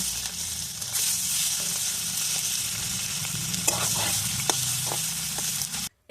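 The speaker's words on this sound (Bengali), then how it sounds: "এবার ডিমগুলো ভেজে নেব" Eggs frying in hot oil for a shrimp biryani, a steady dense sizzle throughout with a few small pops and scrapes, close and continuous until it cuts off near the end.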